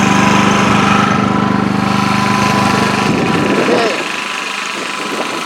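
A small petrol engine, started with the choke pushed in, idles loud and steady with a low harmonic hum, then drops in level toward the end as the idle settles; a voice speaks briefly over it.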